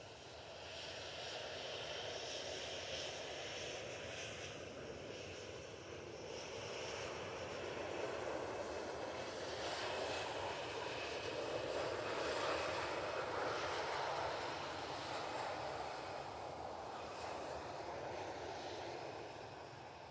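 A fixed-wing airliner's engines drone steadily on the runway at Manchester Airport, a broad continuous roar at moderate distance that swells and eases gently over about twenty seconds with no talk.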